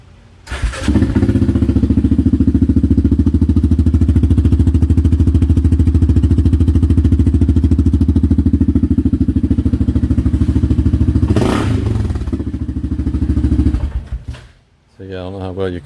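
A Yamaha Viking engine with a custom exhaust cranks, catches and settles into a steady, loud, close idle with a deep burbling note, rising slightly once before cutting off near the end.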